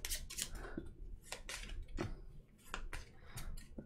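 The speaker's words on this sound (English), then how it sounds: "Looks like I'm gonna have to shuffle this." Playing cards being shuffled during a tabletop card game, a quiet run of quick riffling bursts and soft snaps, close and faint with no voices.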